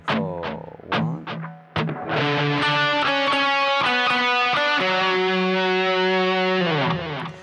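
A distorted electric guitar plays a harmony part from a song's solo, opening with a few short picked notes before settling into loud, sustained overdriven notes, close and alone.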